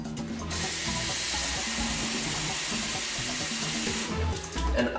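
Tap water pours steadily into a giant cappuccino mug for masala chai, a continuous close splashing rush that starts and stops abruptly, with a clunk at the end.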